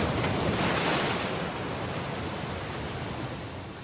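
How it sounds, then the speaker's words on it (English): Surf waves break and roll continuously on a foggy shore under a gale watch, a steady close-up roar with wind noise that eases slightly toward the end. "And waiting on the waves."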